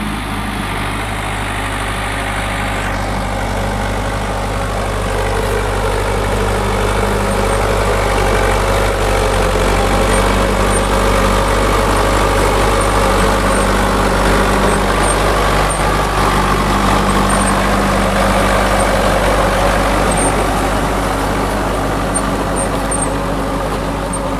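A tractor engine runs at a steady, loud, low rumble, close by and continuous with no voices over it.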